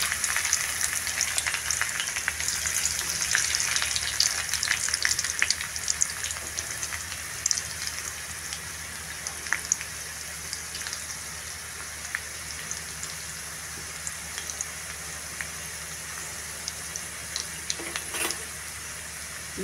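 Garlic fries for tempering in a spoonful of oil in a kadhai, a loud, continuous crackling sizzle with rain-like spatter that eases slightly over time, heard alone without voices.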